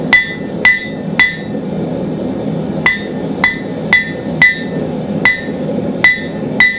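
Blacksmith's hammer striking hot steel to cut through stock for a can tab opener, a series of about ten loud, sharp ringing blows in uneven pairs and runs, close and alone.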